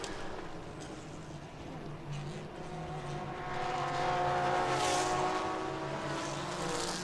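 A Porsche and a Ferrari race car compete on a Thailand Super Series track, their engines a rising, sustained roar that swells as the cars approach and pass.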